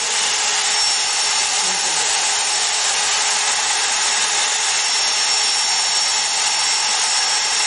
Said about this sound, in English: Now drilling is started.